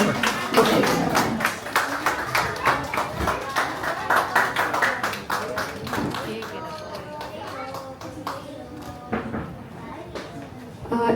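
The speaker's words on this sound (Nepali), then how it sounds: "सबैजनाले जोरदार ताली" An audience at a poetry book launch claps in a brisk, rhythmic burst that gradually thins out, and a voice then talks over the scattered last claps.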